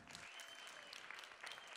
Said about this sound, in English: Give Scott a big round of applause